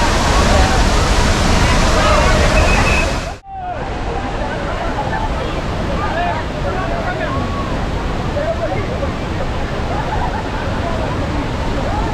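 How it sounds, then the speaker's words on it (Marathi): Devkund plunge waterfall at Bhira Patnus in Raigad district, Maharashtra, pouring a large volume of water onto rocky ground below: a loud, steady broadband roar that briefly drops out then returns, with faint voices in the background. "हा एक डुबकीत धबधबा आहे जो खाली खडकाळ पृष्ठभागावर मोठ्या प्रमाणात पाणी ओततो"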